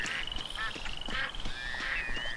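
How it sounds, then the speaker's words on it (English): A frog croaks in the Duck Dynasty video game, repeated nasal, reedy croaks and trills over a steady shrill whine and a faint background of game sound, close and clear, without talk. "The frog is fucking stuck in the wall!"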